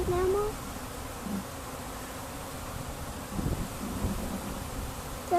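Bees from a package installed a day earlier hum in a low, steady, fairly faint drone around the hive, with a couple of brief tonal squeaks at the start and end.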